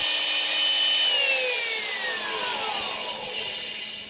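Wood planer cutter head planing a wooden pencil blank, a loud steady high-pitched whine with a rushing cutting noise that slowly descends in pitch as the piece feeds through, continuous throughout.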